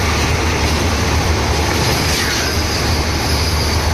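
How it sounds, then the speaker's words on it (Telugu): A Vande Bharat train on the Hyderabad–Bengaluru route rolls past with a loud, steady rumble and rattle of wheels on rail. The sound is continuous and close, with no voices. "వందే భారత్ అయితే వస్తుంది హైదరాబాద్ నుంచి బెంగళూరు వందే భారత్ ఇది"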